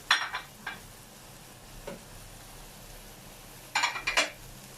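Spoon scraping and clinking in a pot as radish is stirred into pork sinigang, a few short bright clatters at the start and a cluster near the end over a low simmering background.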